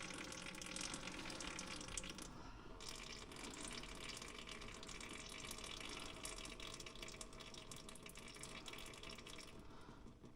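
Fluid draining steadily from a Polaris Ranger SP Premium utility vehicle during maintenance, a continuous faint splashing trickle like a running tap that holds for about ten seconds with no talk.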